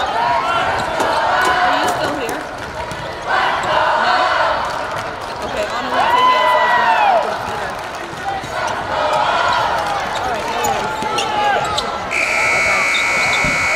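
At a high school basketball game between the Elks and the St. Johns Redskins, a loud, sustained buzzer sounds at the end of the first quarter. It follows ball bounces, sneaker squeaks and crowd noise.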